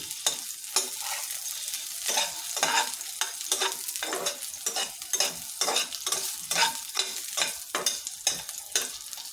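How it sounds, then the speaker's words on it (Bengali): Potatoes fry in a hot pan, a steady crackling sizzle broken by repeated scraping stirs in an uneven rhythm, close and fairly loud with no voices. "আমি আলুটা ভেজে নিচ্ছি।"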